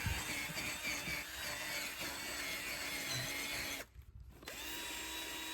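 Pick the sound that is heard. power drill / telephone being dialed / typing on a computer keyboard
power drill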